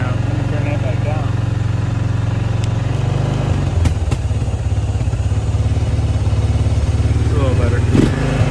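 The engine of a 20-year-old ATV idles high with a steady, close, throbbing rumble that shifts slightly midway, with occasional clatter and someone talking over it.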